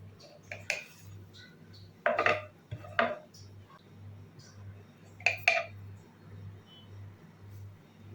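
Pressed dough pieces are cut into shapes in a kitchen, with a few sharp clicks and clinks of a utensil against a plate or board scattered over a low steady background hum.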